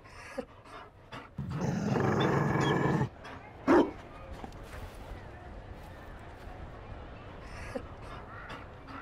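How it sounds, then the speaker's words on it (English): Mabari war hound in the fantasy game Dragon Age: Inquisition, heard as one sharp, loud bark after a stretch of steady broadband noise, with quieter game ambience around it. "You found a dog."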